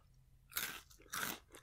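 Someone bites into and chews lechon manok flavored corn nibs, giving two faint, close, crisp crunching bursts about half a second apart against a quiet background.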